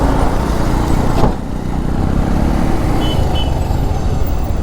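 Road traffic of cars and trucks rumbles loud and close and without a break, a dense roadway drone with engines passing nearby.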